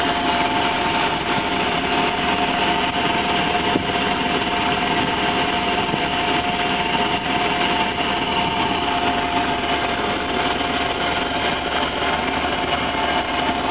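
A van engine runs steadily at a constant pitch throughout, a loud, close, continuous hum with no talk, after a fuel pressure check on a van that used to cut out.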